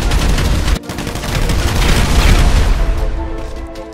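Sustained gunfire in Grand Theft Auto V, a dense, loud stream of shots and booms that barely lets up for several seconds before thinning toward the end.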